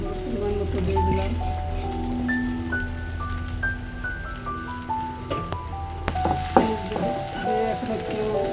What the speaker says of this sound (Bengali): তেল দিয়ে এখন পেঁয়াজ পরিমাণ মতো দিয়ে দিলাম।